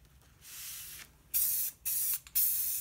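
Aerosol can spraying green paint onto old PVC blind slats being made into garden markers, several short loud hissing bursts close by, the first softer and the last three sharp, separated by brief silences.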